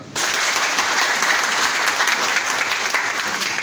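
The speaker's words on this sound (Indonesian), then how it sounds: "Ini tepuk tangan dulu dong" A crowd at a Rejang Lebong regency government gathering attended by the Bupati bursts into loud, dense applause that starts abruptly and holds steady as a continuous wash of clapping.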